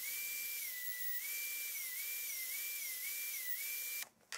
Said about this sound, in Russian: После того, как ножки разделены, шлифую их ленточно-шлифовальной машиной.